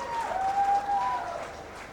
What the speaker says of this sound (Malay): berikan tepukan yang gemuruh sekali lagi untuk persembahan sebentar tadi